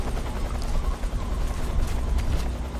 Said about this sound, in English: But the chopper is nearby.